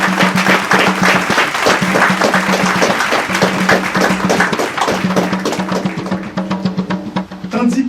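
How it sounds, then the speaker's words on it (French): Sustained, dense applause from an audience after a speech fills the whole stretch, steady and loud, with a low hum underneath that fades a little toward the end. "nous vous demandons, chers amis, de bien vouloir applaudir"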